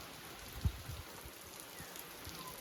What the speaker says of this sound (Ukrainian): Такий дощ спустився. І він йде так в ту сторону, прям заходить.